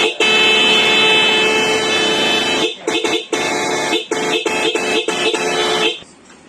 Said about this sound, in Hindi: यह है रूट्स कंपनी का है, छोटा हॉर्न है और आवाज भी अच्छा है। इसको बोलते हैं स्मार्ट टोन के नाम से आता है कंपनी का।